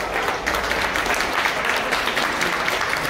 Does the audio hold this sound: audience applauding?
yes